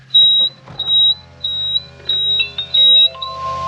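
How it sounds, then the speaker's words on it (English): A Toyota LandCruiser 79 Series gives a series of high, repeated electronic beeps in a steady rhythm, clear and close, with a low engine hum underneath. "She makes some noise. She's got some beeps."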